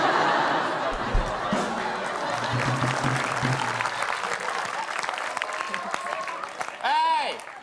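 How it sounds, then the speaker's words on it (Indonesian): Audience applause in an Indonesian comedy talk show studio, a steady wash of clapping with some laughter and chatter, moderately loud, ending with a brief shout. "Kalian jangan tepuk tangan dulu"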